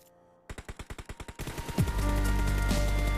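Rapid burst of red-dot-sighted gunfire in the mobile shooter game PUBG Mobile, about ten sharp evenly spaced shots followed by a dense, louder roar of continuous firing and game noise.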